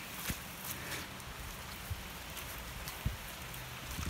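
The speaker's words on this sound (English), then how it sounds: "rain's still coming down" Rain coming down on a wooded hiking trail, a faint, steady hiss of falling water with a few sharper drops or footfalls ticking through it.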